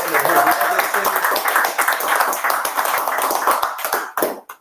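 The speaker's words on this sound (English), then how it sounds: "Round of applause for him." Applause at an ethnic studies community event in Sacramento honoring a professor emeritus, a dense patter of many hands clapping steadily close by, with voices mixed in before it thins and stops near the end.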